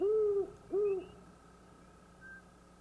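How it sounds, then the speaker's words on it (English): Two low owl hoots in quick succession, clear and fairly close, followed by quiet background with faint distant chirps. "I heard the owl hooting at dusk from the same woods on the hill"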